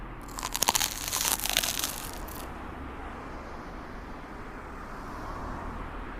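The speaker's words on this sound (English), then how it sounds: "The bread is really crunchy." Biting into crunchy, crispy Vietnamese banh mi bread filled with crispy pork belly at a Bangkok night market: a loud, close crackle of crust breaking for about two seconds, then quiet chewing over the market's background hum, with no talk.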